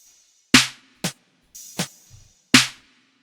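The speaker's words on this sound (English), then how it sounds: "I also added those open hi-hats to add even more rhythm for the chorus without making it too fast" Open hi-hats in a sparse witch house beat ring out as four separate sizzling hits, spaced unevenly and close, alongside a couple of softer percussive taps, with no voices.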